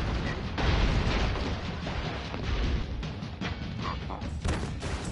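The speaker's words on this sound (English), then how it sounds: "new rule, don't shoot a bomb if anybody is remotely near it." Bomb explosions in the Broforce video game, a dense stretch of booming blasts and crackling bursts piled over one another, loud and continuous with sharp pops scattered throughout.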